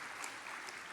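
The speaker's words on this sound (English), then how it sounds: "I appreciate the polite golf clap" Light, polite golf-clap applause from a comedy show audience after a poem, a steady soft patter of scattered hands filling the whole moment with no voices.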